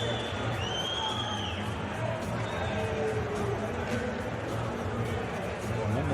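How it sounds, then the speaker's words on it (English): An ice hockey arena crowd gives off a steady roar, with a few sliding whistles rising above it, while a commentator's voice carries faintly underneath. "Crowd whistling as though the referees have spotted something."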